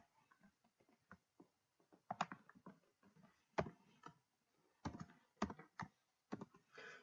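Fingers tapping keys on a computer keyboard in scattered bursts and single clicks, close and fairly quiet, with short pauses between runs and no talking.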